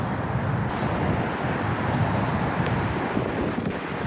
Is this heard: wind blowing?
yes